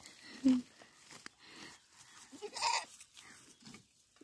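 A goat bleats a few times close by, short wavering cries separated by quiet pauses, with faint shuffling in between.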